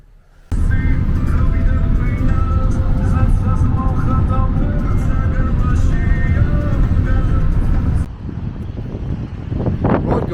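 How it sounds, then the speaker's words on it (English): Inside a collective minivan taxi headed to Gori, Georgia, a steady engine and road roar with wind buffeting runs loud and continuous, dropping briefly before rising again near the end. "I'm now in this collective minivan taxi here on my way to the city of Gori"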